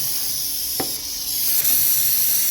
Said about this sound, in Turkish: Balata spreyini bol bulduk sıkıyoruz